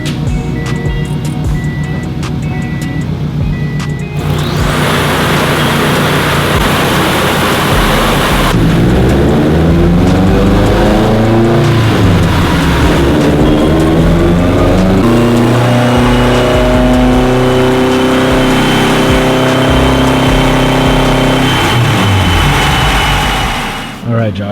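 A Subaru WRX with an STI engine swap, running on ethanol, revs on a dyno. The engine roars loudly with repeated rising and falling revs and sustained pulls, while people talk over it.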